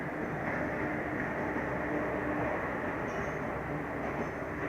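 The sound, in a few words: passenger train arriving at platform 1, Deoria Sadar station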